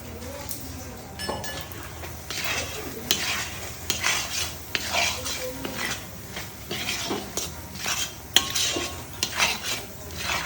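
Turmeric, salt and Kashmiri chilli powder stirred in a hot pan while cooking prawn malai curry, with continuous scraping spatula strokes and light clinks over a soft sizzle, close and steady throughout, no talk.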